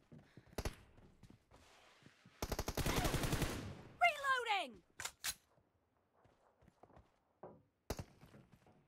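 Gunfire in the video game PUBG Mobile: a single shot, then a long rapid automatic burst, followed by scattered sharp shots and clatter, while a voice talks in between.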